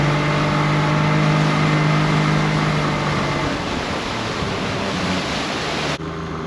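A fishing boat's engine runs hard at high revs while hauling lobster and crab gear in a strong sea, a loud, steady droning roar that dips slightly in pitch near the end.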